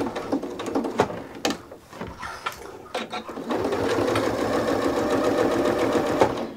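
Sewing machine stitching a seam on a drawstring tote backpack, starting with a few short bursts and clicks, then running steadily and fairly close for several seconds.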